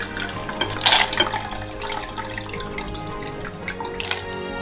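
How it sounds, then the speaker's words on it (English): Ice water pours and splashes into a measuring cup in a kitchen, a continuous trickling stream with small drips and clinks, close and steady throughout. "I cool the water with ice, and I measure out a cup."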